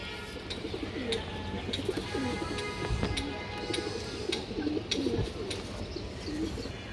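Pigeons, including black-winged lace birds, coo over and over in a low rhythmic murmur, with several birds overlapping up close and soft chirps and rustling scattered through.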